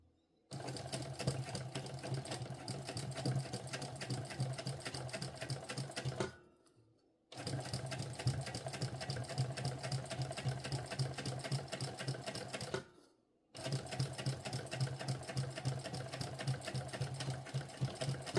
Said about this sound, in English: let's see how this top stitching turns out